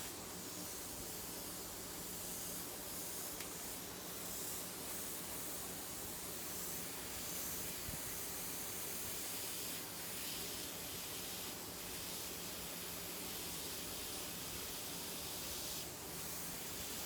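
Continuous soft airbrush spray hiss while paint is applied, a steady broadband wash with no pauses, faint and even throughout.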